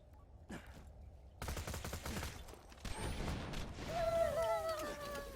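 Pocket Rocket launcher firing in Borderlands 2 with Soldier Axton: a burst of rapid shots and booming impacts, followed by sustained crackling blasts and whooshing tones, moderately loud with no clear talk.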